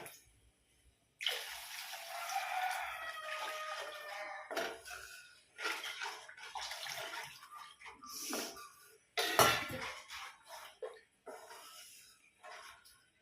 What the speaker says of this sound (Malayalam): കുറച്ച് വെള്ളം കൂടെ നമുക്ക് ഒഴിച്ചു കൊടുക്കാം കേട്ടോ.